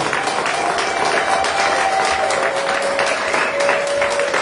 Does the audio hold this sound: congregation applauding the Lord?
yes